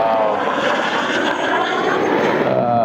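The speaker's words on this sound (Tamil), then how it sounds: "இந்த ஹெலிகாப்டர் தான் குறுக்கு நடுக்கமாக போயிட்டு வந்துட்டு இருக்கு." A helicopter passes close by among mountains on a trekking route, its engine and rotor making a loud, continuous roar that stays steady and near for a few seconds with no talking.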